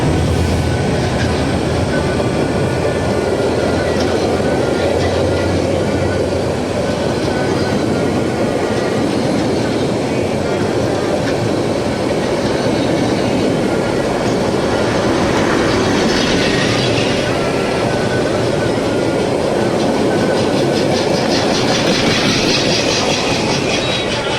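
The Burimari Express passenger train rumbles past close by at Mouchak railway station, Bangladesh, a loud, steady roar of wheels and rail clatter that continues throughout.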